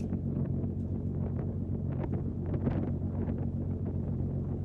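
Constant wind buffets the microphone with a low, rumbling roar, steady throughout with slight gusting swells.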